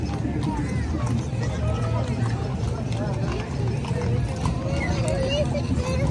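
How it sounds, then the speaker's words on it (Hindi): A line of horses on a street in Morocco trot past, hooves clip-clopping in quick overlapping rhythm close by, with crowd murmur and someone talking over them. "देखे घोड़े ही घोड़े लाइन से"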